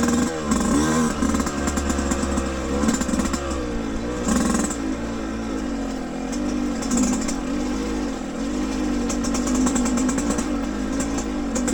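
A Yamaha YZ125X two-stroke dirt bike runs on an off-highway trail, its engine buzzing steadily nearby with frequent rises and dips in revs and some clatter over rough ground.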